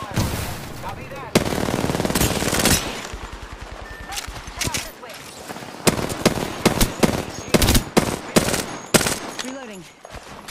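Video game gunfire rattles in dense bursts of automatic fire and single loud shots, near and far, continuing throughout with voices calling out between volleys.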